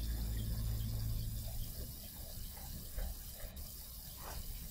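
Water being collected in the hidden-object game Grim Tales: The Vengeance, a steady pouring, gushing stream like a tap filling a container, continuous and fairly close over a low rumbling game ambience.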